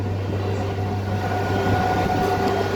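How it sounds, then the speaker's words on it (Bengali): A slow-moving train heading toward Amghata halt on the Krishnanagar–Amghata line gives a steady low rumble and hum with a continuous drone, fairly loud and unbroken, with no voices. "আমঘাটায় যাওয়া ট্রেন ধীরে ধীরে এগিয়ে চলেছে"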